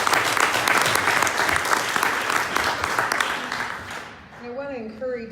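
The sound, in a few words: audience applause for candidates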